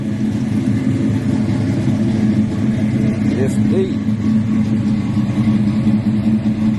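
A car engine idles with a steady low rumble from the exhaust, mellow and even throughout, while someone briefly speaks over it.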